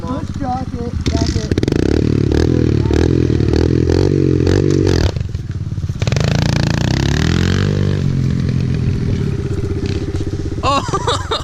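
A tiny motorcycle ridden by a large man revs loud and close, its engine pitch climbing and falling through several throttle blips, with people talking over it and a clattering scrape near the end.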